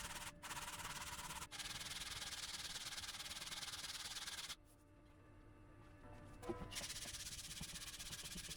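A roundback ukulele's wooden body is sanded by hand in close, continuous abrasive rasping strokes, broken by a short pause before the steady scratching resumes.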